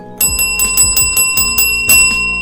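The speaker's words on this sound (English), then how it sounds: "Let me hit my bell real quick." A bright bell is struck repeatedly in a quick, uneven rhythm, each ring sharp and close with shimmering overtones that carry between strikes.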